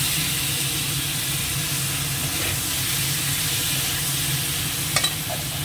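Food is stirred and flipped in a hot pan, a continuous hissing sizzle with faint scraping and a couple of quick utensil taps near the end; no voices.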